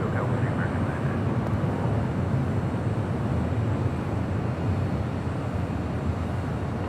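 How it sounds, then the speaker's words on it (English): United Airlines Airbus A319 jet at Los Angeles airport, a steady broadband roar of engine noise that holds evenly throughout, with faint radio-style talk mixed in. "That is United Airlines, flight 1054 heading to Seattle. It's an A319."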